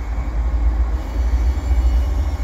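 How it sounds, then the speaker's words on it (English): CP westbound double-stack freight train passing at Dorval, a steady loud low rumble of rolling cars and wheels filling the whole stretch with no talk. "this is the westbound double stack heading out from Dorval."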